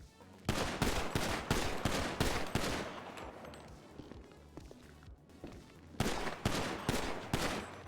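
Pistol shots ring out in GTA V on a NoPixel role-play server, two rapid strings of loud, sharp reports, one near the start and another near the end, with a quieter scuffling stretch between them.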